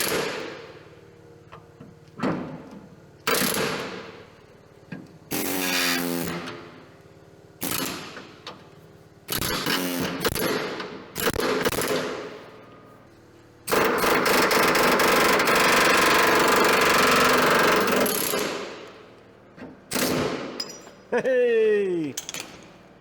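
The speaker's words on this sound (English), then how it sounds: "Let that cool off a second and then hit it with the air hammer." Air hammer driving a stuck sleeve out of a 1964 Jeep CJ5 barn find, heard as several loud rapid bursts of hammering with pauses between them, the longest sustained run near the middle, alongside clanks and brief voices.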